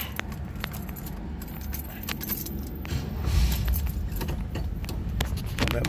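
A large bunch of keys jangles and clinks close by, in irregular bursts that grow busier midway, with faint low rumble from a car nearby at a rim store.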